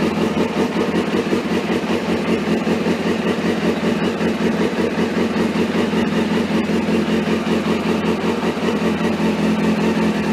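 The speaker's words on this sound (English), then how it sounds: "when I start the bike up, and I can't run this for long because I'll die of fumes" Suzuki GSX-R 600 motorcycle engine idling close by, a steady, loud, even running rumble that holds without revving and with no talk.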